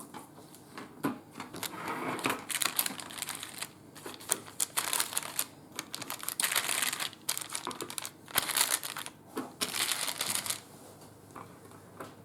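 Florentine biscuits peeled away from crinkly parchment paper, giving a close, continuous run of crackling and rustling bursts with no voices.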